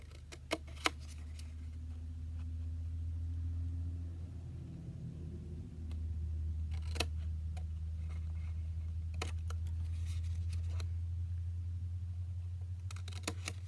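Scissors cutting fabric for a purse, heard as scattered crisp snips and clicks spaced irregularly over a steady low rumbling hum in the room.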